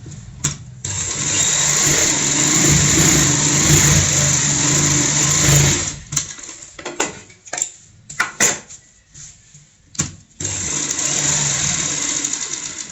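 A sewing machine runs a straight seam along a pillow cover, its motor whirring steadily for several seconds, pausing with a few short bursts, then running continuously again.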